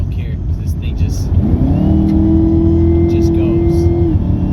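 A 2019 Chevrolet Camaro ZL1 1LE with a 10-speed automatic accelerates hard, its engine note rising steadily and holding a loud, close, droning pitch for a few seconds while a person talks over it.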